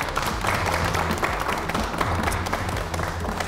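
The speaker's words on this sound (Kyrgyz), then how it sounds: "Кол чабуулар." An audience at a family TV competition semifinal breaks into steady, dense applause, many hands clapping together at an even level throughout with music playing underneath.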